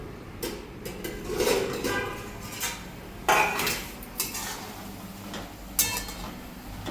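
Lid lifted off a pot of rice-flour vegetable and the contents stirred: clattering metal dishes and cutlery knocks, a few sharp clanks and scrapes spread through the clip, close and moderately loud.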